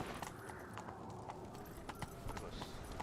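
Horse hooves gallop in a steady clip-clop rhythm across a Witcher video game landscape, continuous and fairly close, with faint game ambience and a brief voice underneath.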